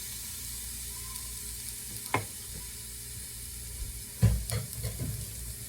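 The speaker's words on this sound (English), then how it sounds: "First thing we're going to do is braise this pork loin." A pork loin sizzles in a hot pan, a steady low frying hiss with a few louder stirring and scraping knocks toward the end, no voices.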